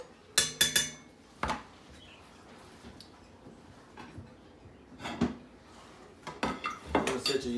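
Kitchen utensils clink and clatter on dishes and a counter while homemade stew is being made, several sharp metallic knocks at irregular intervals with quiet gaps between.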